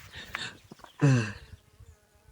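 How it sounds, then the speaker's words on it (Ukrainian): Honeybees fly around an apiary hive, a faint buzz with one louder insect passing close by for about half a second, over quiet background. "Тих дві сім'ї, які вижили, вони зараз активно носять пилок, все в них добре. Вони літають."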